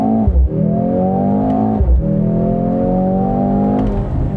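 A 2025 Mercedes-AMG GLC 63 S E Performance engine revs hard and loud in manual after a downshift, rising in pitch, dipping briefly twice as gears change, then climbing again, close by.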